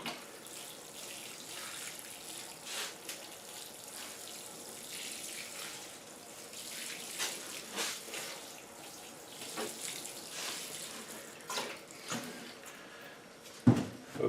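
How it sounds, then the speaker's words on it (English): Water running and splashing onto dahlia seedlings indoors, a soft continuous trickle with irregular patters and drips, fairly quiet and close, no talking. "Water this in."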